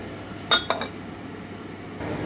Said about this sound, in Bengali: এবারে আমি ঢাকাটা উঠিয়ে নিচ্ছি, একটু নেড়ে নিচ্ছি।